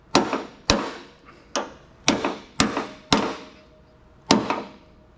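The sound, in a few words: hammer striking vice grips clamped on a door hinge pin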